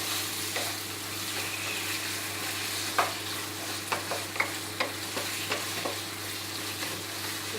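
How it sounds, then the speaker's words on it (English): Meat stir-fries with garlic and ginger in a hot pan for Chinese fried noodles, a steady sizzle punctuated by a run of spatula scrapes and taps, close and clear. "Let the meat a bit turning color, like around 3 to 4 minutes stir fry."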